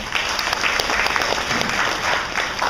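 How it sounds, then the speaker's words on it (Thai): Crowd of lay people applauding at a Buddhist temple gathering, a full, even wash of clapping that holds steady from start to finish with no voices on top. "ขอเสียงปรบมือหน่อยโยม"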